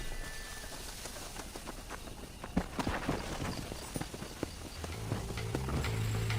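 Horse hooves clip-clop in Red Dead Redemption under steady outdoor game ambience, with a faint irregular patter of steps and a low droning tone coming in toward the end.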